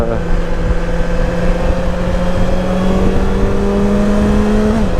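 BMW S1000XR motorcycle pulls hard under acceleration, a steady loud engine drone with rising tones and constant wind rush, close and continuous.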